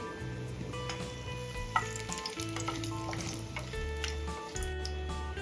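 Whole green cardamom, a cinnamon piece, cloves and bay leaves sizzle in hot oil with a continuous crackling fry. Soft tonal background music runs underneath and no one speaks.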